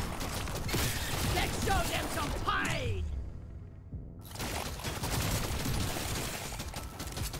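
Rapid shotgun blasts and dense weapon fire in the game Deep Rock Galactic Survivors, loud and continuous with a brief drop-off midway before the barrage resumes.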